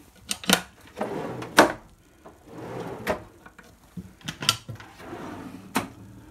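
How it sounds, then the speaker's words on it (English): Soft-close drawers in the galley of a Beneteau Oceanis 51.1 yacht slide open and shut several times, each run a wooden rumble ending in a sharp knock, close by with short pauses between. "we have drawers."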